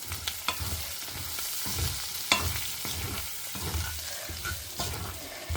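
Onions frying in a pan with sambar powder, turmeric and salt, stirred now and then, giving a steady close sizzle with soft scraping strokes and no talking.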